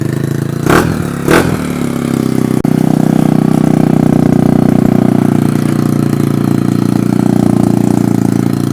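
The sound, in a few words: Honda ST140 motorcycle starting up with loud pipe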